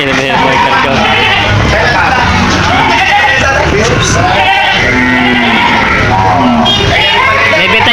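Loud, overlapping bleating from many goats close by at a livestock auction market in Lucena, Philippines, mixed with people shouting and chattering in a busy crowd.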